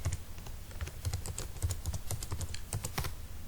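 Rapid, close clicks of keys being pressed on a computer keyboard, irregular in rhythm and fairly quiet, with no voices.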